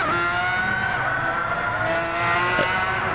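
A McLaren race car engine in a racing video game, a steady high-pitched whine held close and loud with a slight pitch shift partway through, and no talking.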